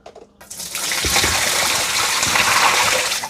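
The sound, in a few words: dirty water dumped out of Dreame robot vacuum tank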